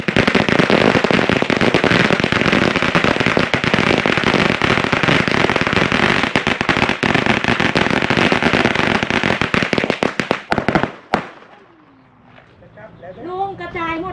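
A long, dense string of firecrackers pops and crackles loudly and continuously for about eleven seconds, then stops abruptly and voices are heard talking.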